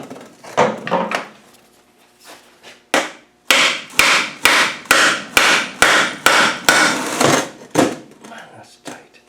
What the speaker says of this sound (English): here with a big hammer.